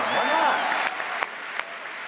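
Audience applause at a live tech keynote stage event, a sustained wash of clapping from a large crowd with a few sharper claps standing out, moderately loud and fading slightly toward the end.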